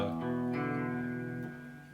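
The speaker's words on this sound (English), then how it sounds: "low bass notes with a little bit of chorus." Low guitar notes ring out with a shimmering chorus effect, sustained and fairly quiet, fading at the end.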